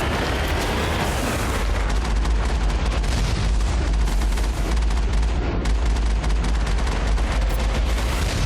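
Heavy turret fire in the Mass Effect video game, a dense, continuous barrage of loud gunfire and explosive blasts that pounds on without a break, close and overwhelming.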